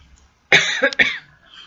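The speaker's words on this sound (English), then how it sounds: "and I keep coughing." A person coughs nearby, a loud harsh burst followed by a couple of quick rough hacks, heard alone with no talking over it.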